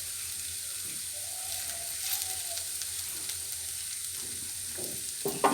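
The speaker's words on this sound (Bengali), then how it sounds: "আস্ত এলাচ, মানে এলাচ দারচিনি, অল্প একটু গরম মশলা দিয়ে দিলাম" Whole cardamom, cinnamon and garam masala sizzling in a little oil in a kadai, a constant close hiss with a few soft stirring scrapes toward the end.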